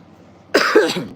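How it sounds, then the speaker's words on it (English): A man with a sore throat lets out a sudden, close cough, a sharp burst followed by two or three rougher hacking pulses over about half a second. "Cough"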